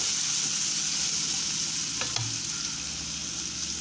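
Chopped vegetables for Onam coottu curry sauté in a pan, a close, continuous sizzle with a brief utensil scrape and clink partway through, and no voices.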